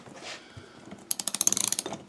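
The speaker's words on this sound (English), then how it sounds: "Running the ratchets is sometimes a two-hand job." A ratchet wrench tightens a wheel during a tube tire repair, giving a rapid run of about fifteen close, crisp clicks in the second half after quieter shuffling.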